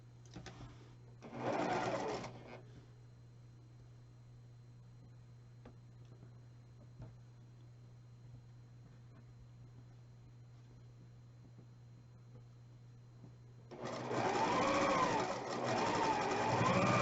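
A sewing machine stitches quilt pieces together in two bursts of whirring, one short near the start and one longer at the end, with a quiet steady hum in between.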